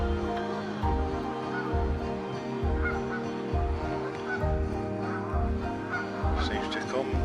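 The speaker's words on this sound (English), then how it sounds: "The old barnacle goose is still here." A barnacle goose in an autumn park honks repeatedly in a steady rhythm, close and clear, over a constant background hum.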